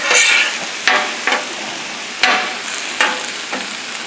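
Chorizo and fajita meat frying on a Pit Boss griddle outdoors, a steady close sizzle broken by sharp scrapes and stirs of a spatula, with no talking.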